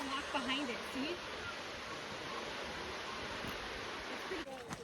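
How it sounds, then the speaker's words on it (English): Steady, broadband rush of a waterfall at Silver Falls State Park in Oregon, heard from nearby as a constant hiss, with a child's and an adult's voices talking over it. "You see the waterfall?"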